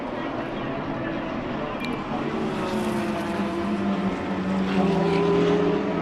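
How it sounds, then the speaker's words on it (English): Porsche and BMW race cars battle closely at a circuit racing festival, their engines droning loudly and continuously, rising in pitch, while a commentator talks over them. "there's a bit of a fight on here between these two Porsches and the BM"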